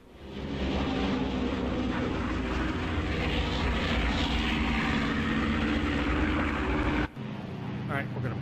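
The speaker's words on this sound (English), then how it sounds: "La5N, pretty maneuverable. Really nice plane." A La5N fighter plane in the flight game IL2 1946 gives a loud, steady engine drone that holds evenly for several seconds, dips sharply near the end, then resumes.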